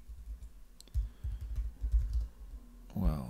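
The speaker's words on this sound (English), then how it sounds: "Again, excuse my typing." Rapid clicking keystrokes on a computer keyboard come in an irregular burst, close and fairly loud, followed by a brief voice at the end.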